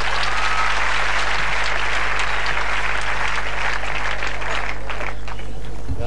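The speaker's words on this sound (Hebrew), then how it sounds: "תנו קצת כפיים" An audience claps loudly and continuously at a live show, dense applause holding over a steady low hum, with a few voices faintly mixed in.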